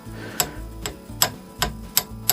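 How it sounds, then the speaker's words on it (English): A socket wrench ratchets on a Johnson TD 20 outboard motor's lower unit, giving six sharp clicking strokes in a steady rhythm with a faint mechanical hum between them, close and clear. "Instead of using the crescent wrench, I got a socket that fits on here."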